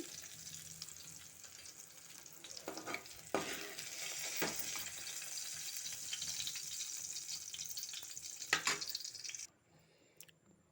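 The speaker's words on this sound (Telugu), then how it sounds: "పచ్చిమిర్చి ఏంది అంటే చిట్పట్ అన్నది పోతుంది కదా ఇట్లా సైలెంట్ అయినప్పుడు మనం తీసేసుకోవాలి ఇలా వేయించుకోవాలి" Green chillies fry in hot oil for a gongura chutney, giving a steady close sizzle broken by a few scraping stirs. The sizzle cuts out abruptly near the end.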